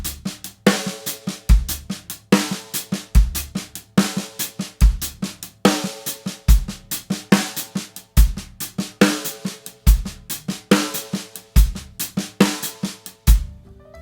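A drum kit plays two paradiddle-based grooves: punchy kick and snare hits under busy hi-hat or cymbal strokes, looping in a tight, repeating pattern. The kit is close and loud, with no talking.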